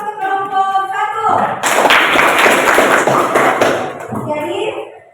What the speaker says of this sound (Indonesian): Berikan tepuk aplaus untuk kelompok 1